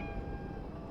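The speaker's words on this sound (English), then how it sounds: "Hi, kitty cat! Can you pet the cat?" A cat in the video game Conarium gives one short meow over a dense, rumbling in-game ambience.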